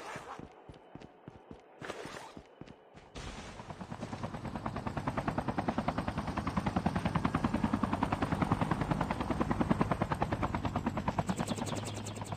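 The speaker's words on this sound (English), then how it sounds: "Chopper there." A helicopter in Call of Duty Mobile battle royale approaches, its rapid rotor thumping growing steady and loud after a few sharp gunshot-like bursts at the start.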